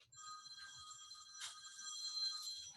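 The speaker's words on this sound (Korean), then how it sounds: "전화가 왔네" A telephone rings with an incoming call during an online class, a steady electronic ringtone of bright repeating tones, fairly faint and alone.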